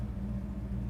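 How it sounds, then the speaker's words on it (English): A 1970 Plymouth GTX with a 440 V8 idles steadily nearby, a deep, even low rumble with a constant throb and no talk. "Car idles real nice."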